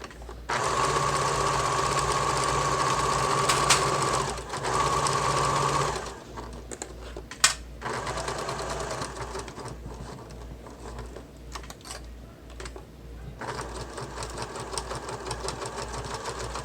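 A sewing machine with a zipper foot runs in bursts while stitching a bag, a close rapid mechanical whir for several seconds, then pauses, followed by quieter handling and intermittent stitching.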